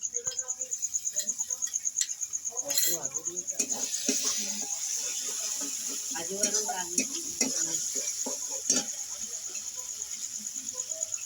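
Melon seed paste is stirred into sizzling masala in a pan, giving a steady hiss of frying with repeated scraping and stirring strokes, close and fairly loud, with a high-pitched sizzle running throughout.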